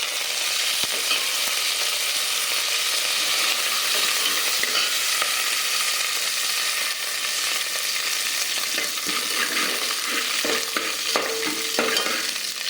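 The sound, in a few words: dried chilies and curry leaves sizzling in oil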